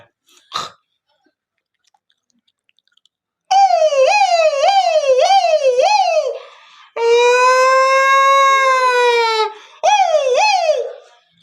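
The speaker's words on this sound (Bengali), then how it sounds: "তো এখন অ্যাম্বুলেন্সে ভয়েস শুনাম" An ambulance siren wails loud and close in rising-falling sweeps, switches to a long steady tone, then returns to the quick wail; a brief knock precedes it.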